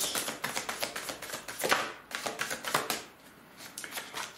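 Tarot cards being handled and laid down, the eight of swords being covered, with a quick run of soft papery taps and shuffles close by.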